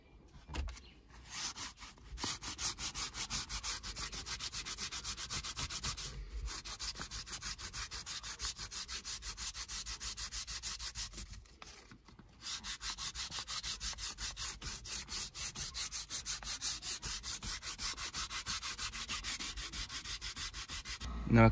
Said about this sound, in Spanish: usaremos la lija vieja para quitarlo más gordo